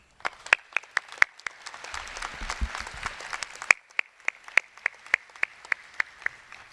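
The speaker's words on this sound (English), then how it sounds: "Can we have another round of applause for Ms. Duthie?" Audience applause at the GRCC Learning Corner 2011 GED graduation ceremony: a steady wash of many hands clapping, moderately loud, with sharp individual claps standing out throughout.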